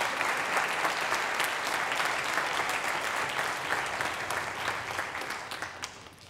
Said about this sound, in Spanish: Un fuerte aplauso para nuestra fila de flautas.